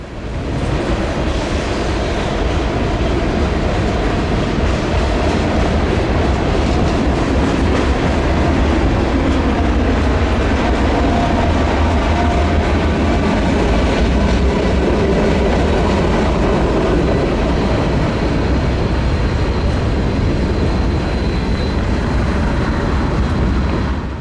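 A heavy Norfolk Southern freight train with Reading and Northern cars and a mid-train DPU rolls steadily past at close range, a loud continuous rumble of wheels and cars on the rails with no pauses.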